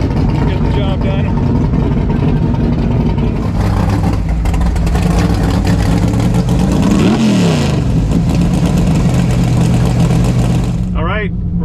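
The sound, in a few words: Claudio's big-tire 1968 Camaro accelerating down the drag strip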